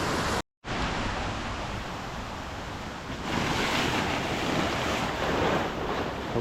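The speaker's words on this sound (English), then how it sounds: "we had some crazy rain last night, so the creek sounds more like a river" A creek swollen by heavy overnight rain rushing like a river, a continuous broad roar of running water with some wind buffeting, loud and close, briefly cut out near the start.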